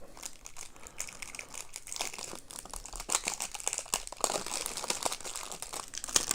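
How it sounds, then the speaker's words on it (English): Cellophane wrapping being peeled and pulled off a Freemax Scylla Mini 18mm vape tank, a steady close crinkling and crackling that grows louder and busier toward the end, with no talking. "Comes wrapped in this sort of cellophane cover. Let's pop this off just now."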